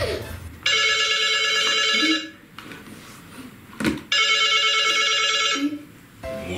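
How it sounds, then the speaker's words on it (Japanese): Telephone ringing indoors, two long electronic trilling rings separated by a short gap, loud and close, with brief faint sounds between them. "もうあの人から電話かかってくるよ"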